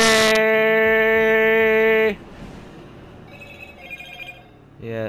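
A telephone rings loudly with a bright, steady electronic tone for about two seconds, then cuts off, leaving noisy background clatter before a short burst of sound at the end.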